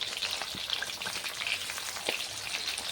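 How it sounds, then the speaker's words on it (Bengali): Pieces of katla fish fry in hot oil, a dense, continuous close crackle and sizzle with small pops throughout, no speech. "মাছগুলোকে খুব ভালো করে ভেজে নিতে হবে, উল্টে পাল্টে লাল লাল করে।"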